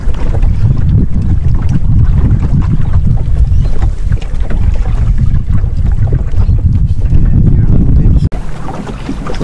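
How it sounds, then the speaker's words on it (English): A sailing dinghy runs under sail downstream on a river toward its mouth, with steady loud wind buffeting the microphone and water rushing past the hull throughout, easing slightly near the end. "Go, we're sailing."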